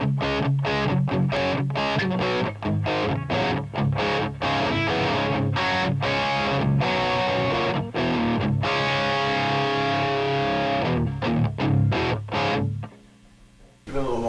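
Electric guitar driven through a Friedman BE-OD overdrive pedal at low gain gives a low rock tone, with chugging rhythmic chords and short stabs played steadily and loud, then a ringing chord that decays at the end.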